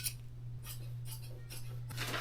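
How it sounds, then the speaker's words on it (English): Scissors being handled, with several short metallic clinks and rustles over a steady low hum. "Let me grab my scissors."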